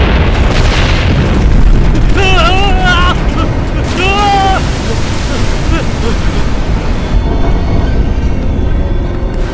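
A missile detonation in a dubbed action film: a loud, sustained explosive boom with rushing, roaring rumble filling the whole span, and brief tonal effects near the start.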